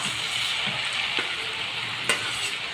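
Garlic, ginger and green chilli frying in a pan give a steady, close bubbling sizzle, with a couple of faint clicks from the cookware.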